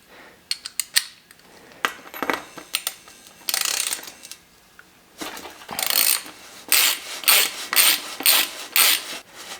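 Metal tool clicking and scraping against a mountain bike's bottom bracket as it is loosened clockwise, a run of sharp ratcheting clicks and bursts of grinding strokes, close and fairly loud with no talk.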